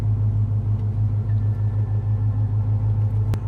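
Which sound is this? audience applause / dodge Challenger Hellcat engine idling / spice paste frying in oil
dodge Challenger Hellcat engine idling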